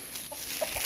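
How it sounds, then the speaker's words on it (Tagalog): A chicken on a farm gives a few short, soft clucks, brief and somewhat distant against a quiet outdoor background. "Tsaka may manok ata kami dyan"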